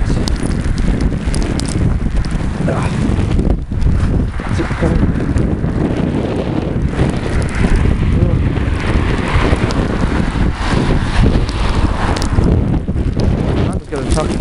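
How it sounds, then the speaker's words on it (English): Blizzard wind with hail on a snowy hillside, roaring loud and continuous against the microphone with gusty buffeting throughout. "Yeah, it's hailstorm as well."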